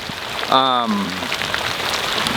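Steady rain patters in a vegetable garden with cucumber plants on a hot day, a constant wash of drops heard close, briefly overlapped by a short tonal voice-like sound early on.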